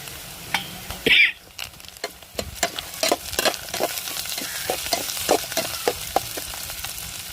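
Chopped ginger and coriander fry in a pan, with a soft steady sizzle broken by repeated close scraping and tapping of a spoon as it is stirred.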